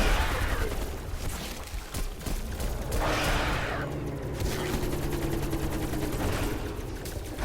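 Loud, sustained automatic gunfire rattles nonstop in the video game Black Ops Cold War Zombies on Firebase Z, dense bursts layered with booms, while voices talk faintly underneath.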